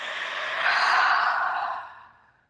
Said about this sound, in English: We're gonna yawn, let it become real.